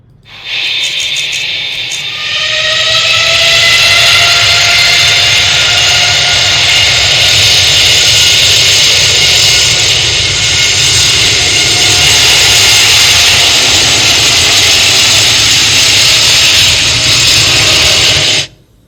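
Jet airliner engines of Air India flight 171 spool up before takeoff. A loud, sustained roar swells within the first seconds, with rising whine tones, then holds steady for about fifteen seconds before cutting off.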